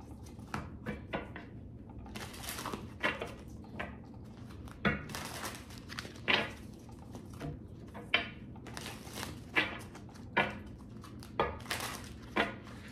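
Tarot cards are shuffled by hand in a quiet room, giving repeated soft riffling bursts and taps at an irregular rhythm, close and fairly faint, with no speech.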